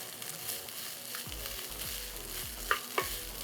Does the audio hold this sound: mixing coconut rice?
yes